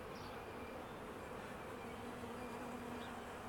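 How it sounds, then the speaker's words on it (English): A steady, dense hum of many honey bees buzzing close by, continuous and even throughout with no voices. "These are all nurse bees on these eggs and larvae."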